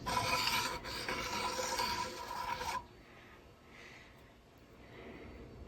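Screws are loosened and the housing is lifted off the gear case of a vintage outboard motor in a shop, with a close, harsh rasping scrape for a few seconds before it falls to quiet, faint handling sounds.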